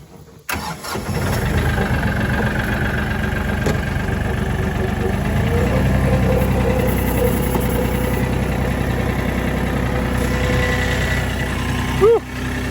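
A farm tractor engine cranks and catches, then settles into a steady, loud, close-up idle that rumbles on evenly for several seconds, with a small sharp noise near the end.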